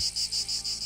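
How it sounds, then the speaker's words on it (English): Cicadas buzz in a forest setting within a TV drama, a high, continuous insect drone pulsing in regular waves, steady and unaccompanied by voices. "you can hear the cicadas in the background"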